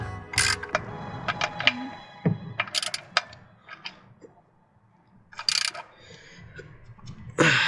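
Ratcheting and small mechanical clicks from tightening a part by hand during an oil change on a BMW Z3 (E36 platform), coming in short irregular bursts with quiet gaps between them.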